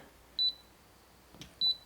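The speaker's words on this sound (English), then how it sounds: "you don't want all these beeping sounds" Two short, high electronic beeps from a fingerprint and keypad deadbolt door lock, each a quick double pip, separated by a faint click in a quiet room.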